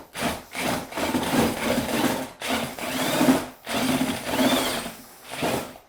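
Tile mortar scraped and churned in a pail by hand, a rough gritty rasp in repeated strokes with short pauses, close and steady, with no talking.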